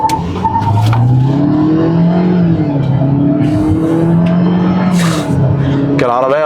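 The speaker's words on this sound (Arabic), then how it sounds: "هنشوف العربيه هتجيب من 0 ل 100 في قد ايه" A GAC Emzoom GS3 in sport mode accelerates hard from 0 to 100 km/h, its engine rising steadily in pitch through the gears, loud and close throughout, with a brief tire chirp near the end and voices talking over it.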